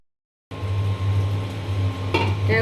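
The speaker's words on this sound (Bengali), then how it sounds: "এখন ভালো করে নেড়ে চেড়ে আমি ঢাকনা দিয়ে ঢেকে দেব কষানোর জন্য" Spiced masala with garam masala powder is stirred in a cooking pot, a steady scraping and sizzling hiss with a low hum beneath, ending in a couple of sharp metallic clinks of spoon against pot.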